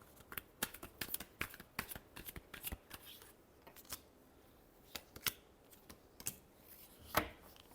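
Tarot cards being shuffled by hand: a quick series of crisp, papery slaps and riffles, irregular and close, fairly quiet with short gaps between flicks.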